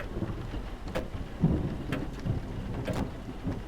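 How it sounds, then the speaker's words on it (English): Steady rain pours with rumbling thunder in the horror video game 386, the downpour hissing constantly while thunder swells and several sharp crackling strikes punch through, moderately loud and with no voices. "And you can hear the storm raging outside."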